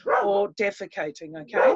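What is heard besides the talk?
dog barking in the background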